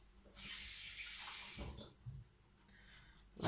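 Tap water runs steadily for about a second as fresh beets are rinsed in a kitchen sink, then stops, followed by a few faint splashes and a sharp knock at the end.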